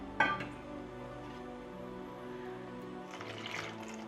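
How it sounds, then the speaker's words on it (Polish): Water pours into the pan of a bread machine for onion bread, already holding flour, a steady liquid fill beginning with a sharp splash and running under tonal background hum, swelling again near the end. "Wlewamy wodę"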